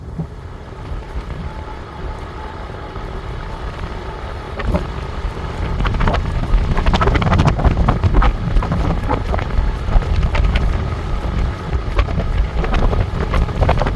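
Wind roars over the microphone of an Aniioki or Fucare e-bike ridden on throttle alone at its top speed of about 20 mph, the rumble steady and loud and building as the bike speeds up.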